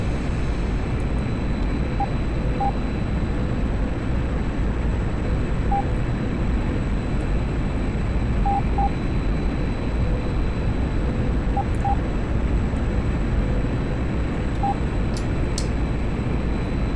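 A MiG-21 jet in a flight simulator runs its engine for takeoff, a steady loud roar with whine held evenly throughout and no distinct change in pitch.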